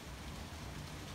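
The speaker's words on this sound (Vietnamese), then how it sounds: "Nay mưa nhiều." Rain falls on a garden in a steady, even hiss, faint and continuous for a brief moment, with no voices.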